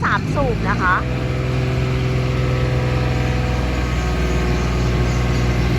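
An Ammann AV16K road roller, a 1.5-ton compact machine powered by a Yanmar three-cylinder engine, runs with a steady low diesel drone close by while someone speaks over it.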